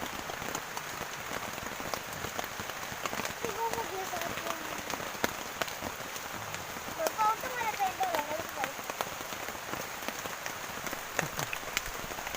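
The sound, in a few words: rain falling on a tent while fishing at a lake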